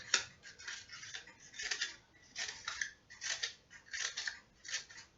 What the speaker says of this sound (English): So just keep cutting round and round.